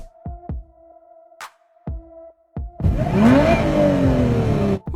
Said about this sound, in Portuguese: acelerando o motor do carro